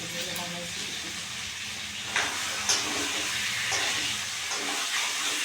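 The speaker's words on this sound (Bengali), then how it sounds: "এই যে চিকেন রান্না হচ্ছে, কষানো হচ্ছে।" Chicken with spices sizzles in a pan with a steady hissing and frying noise throughout, with a few soft clinks and scrapes over it.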